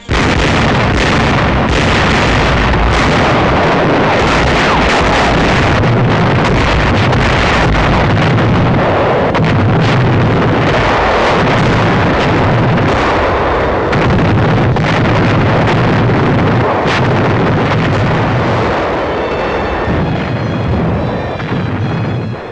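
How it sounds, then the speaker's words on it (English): Big naval guns fire on shore installations at Rendova during a 1943 wartime bombardment, heard as dense, continuous roaring blasts and booming bursts mixed with heavy wind-like rumble, loud and sustained throughout. "Rendova shore installations come within range of our big naval guns."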